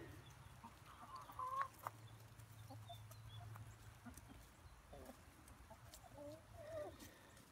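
Pet hens named Rocky, Sparkles and Rosie clucking softly in a backyard coop in the morning, with low steady background hum and a few scattered faint calls.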